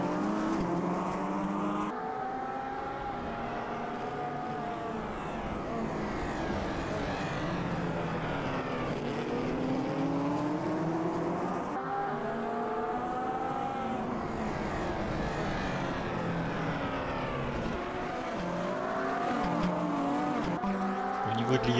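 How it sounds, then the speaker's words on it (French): A race car engine in the Automobilista 2 racing game revs and shifts continuously, the pitch climbing and dropping repeatedly through gears, loud and close from a chase view, with tire noise and no talking. "on va avoir ce son du véhicule."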